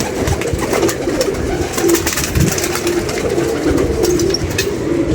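Pigeons cooing close by, several soft repeated coos overlapping in a steady rhythm over a dense, continuous background of rustling and fluttering, with no talk.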